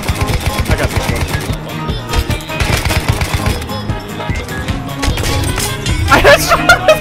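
Rapid gunfire from the Battlefield 1 video game, dense bursts and single shots crackling continuously at close range, with players' voices talking over the shooting.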